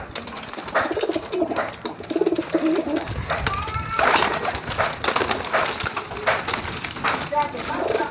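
Racing pigeons cooing and scuffling in a fight, with repeated throaty coos, wing flaps and bursts of scrambling, close and busy, while someone talks over them.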